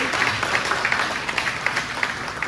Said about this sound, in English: another round of applause for our amazing accompanist